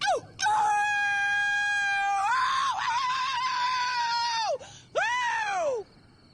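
A woman howls along with wolves in a TV drama scene, several long rising and falling howls, loud and close, broken by short pauses, with the last howl swooping up and fading.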